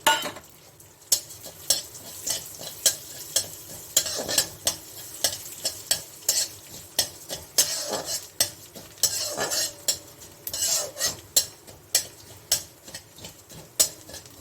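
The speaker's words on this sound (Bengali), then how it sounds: "এখন এই যে চালটা আছে আমি একটু ঘিয়ে ভেজে নিচ্ছি।" Rice being stirred and fried in a little ghee in a hot kadai, with repeated sharp scraping strokes of a utensil, roughly one every second, over a soft background sizzle.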